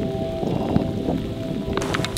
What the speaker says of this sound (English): Blimey, it's hailing. There's hailstones falling from the sky.